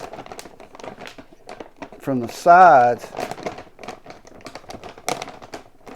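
A brief crinkling, crackling run of plastic sounds as a Ziploc-style zipper seal on a bag of pinto beans is pressed shut, with a person talking throughout.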